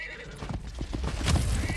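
Horse neighing and hoof clip-clop in the mobile game Cat Fantasy, a short whinny over rhythmic hoofbeats amid layered game effects, fairly close and steady.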